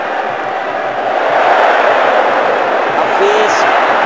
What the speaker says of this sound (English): great noise from the crowd